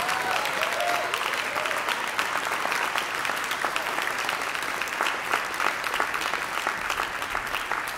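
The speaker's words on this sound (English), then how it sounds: "another round of applause for the Jazz Repertory Ensemble" Sustained applause from a packed audience at a university jazz concert, steady dense clapping throughout, loud and continuous with no voices on top.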